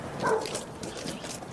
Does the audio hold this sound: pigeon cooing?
no